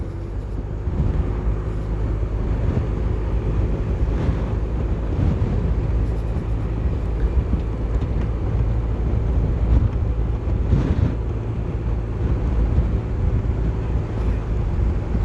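Steady strong wind roars across the microphone during a youth summer series cycling race, a constant broadband rush with faint gusts and no clear voices.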